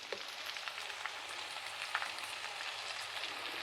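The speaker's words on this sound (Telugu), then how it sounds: "మొత్తము మంచిగా సిమ్లో పెట్టుకొని వేయించుకుందాం." Ivy gourd curry with curry leaves, turmeric and salt fries in a pan on low heat, giving a soft, steady sizzle with scattered faint crackles and no voices.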